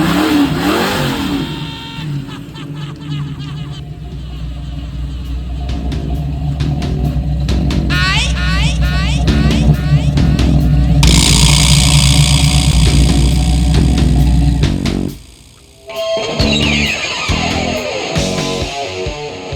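A 1969 Ford Mustang engine idles with a rough, uneven rumble, then revs up in several swelling surges, briefly dropping near silent before catching again; loud and close with no talk.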